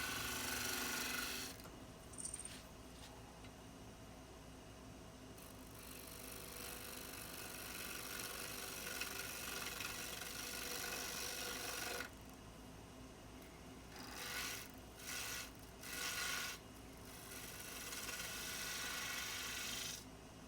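A wood lathe spins a turned wooden piece for a band saw project while a tool cuts down the nub on its end, giving a steady, close scraping whir with brief pauses and changes in the cut.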